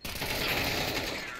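Gunfire in a competitive tactical shooter video game, a dense burst of rapid shots sounding loud and close for the full moment.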